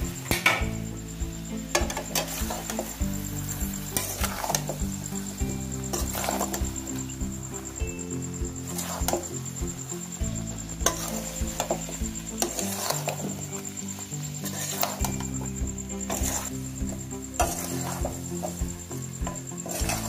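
Spice mix is stirred into softened mango pickle in a pan with repeated scraping and clinking of a spoon against metal, a light sizzle running underneath throughout.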